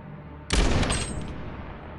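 A sudden loud burst of gunfire in the video game Call of Duty Modern Warfare erupts after a quiet moment, then rings out and decays into a lingering tail, with no voices.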